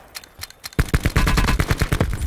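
Rapid bursts of gunfire in Call of Duty Blackout, quiet single shots at first, then a loud, dense stream of automatic fire with no talk over it.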